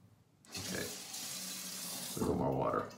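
Water runs from a tap as more is added to a shaving lather. It starts abruptly and flows steadily at close range, then ends in a brief splashing, clattering burst.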